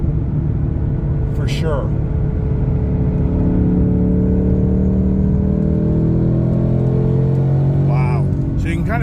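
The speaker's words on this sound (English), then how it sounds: "I could hear the supercharger that time" A race truck engine fitted with a Whipple supercharger rumbles loudly close by and climbs steadily in pitch as it revs, while people talk over the engine.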